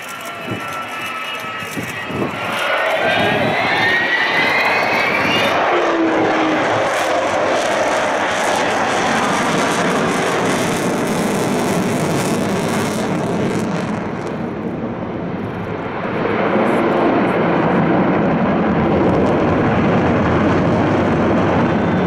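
A jet bomber powered by four Rolls-Royce Olympus 202 two-shaft turbojets roars past at an air show, a loud broadband rush that swells, eases briefly, then builds again, with wind buffeting the microphone.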